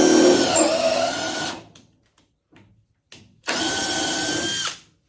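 A power tool runs a tap cutting an 8 mm 1.25 thread in the body of a 1972 VW Super Beetle, giving two loud steady whirring runs separated by a quiet pause with a few faint clicks.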